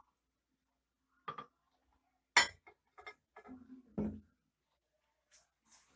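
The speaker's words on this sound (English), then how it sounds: "We serve it in the glass." An oatmeal and fruit smoothie is served into a glass, heard as a few sparse glassy clinks and light knocks spread across a quiet kitchen.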